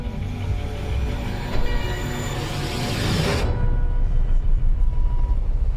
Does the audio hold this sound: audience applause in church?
no